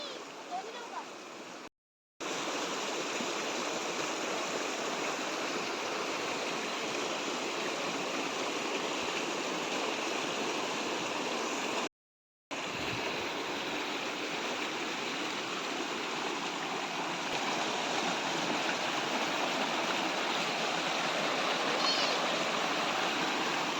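Water pouring out of a flooded farm field along its outlet path, a continuous loud rushing stream broken by two brief gaps, with a voice over it.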